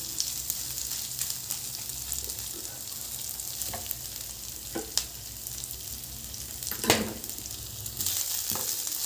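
Ginger sizzles steadily in oil in a pan as the base for a prawn curry. The hiss is continuous and fairly soft, with occasional stirring scrapes and no talking.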